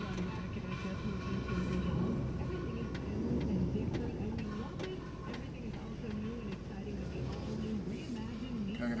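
A truck is driven off a parking area, its engine running steadily close by for the whole stretch, with some vehicle rumble and faint voices underneath.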